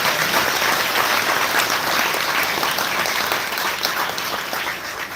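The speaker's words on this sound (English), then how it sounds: "Let's give her another round of applause." A community audience at a city event gives a round of applause, dense and steady throughout, fading slightly near the end.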